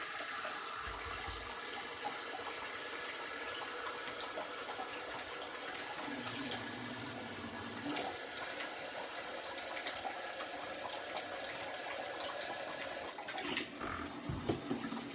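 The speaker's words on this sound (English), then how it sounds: "just fill it with 3 cups of water" Steady rush of water pouring from a tap into a Pampered Chef Deluxe Cooking Blender jar, continuous for the whole stretch, with a brief clatter near the end.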